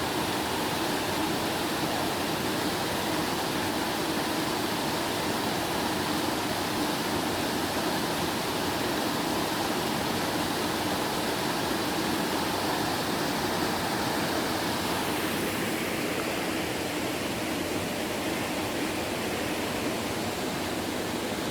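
Water of a river where people are bathing rushes in a steady, dense, broadband hiss, constant and close throughout with no pauses.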